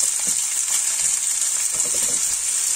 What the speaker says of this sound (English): We allow this to fry for some minutes. It will turn very well in the oil.